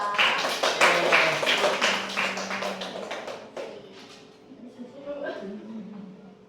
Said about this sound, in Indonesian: Silakan beri aplaus dulu buat kelompok 2.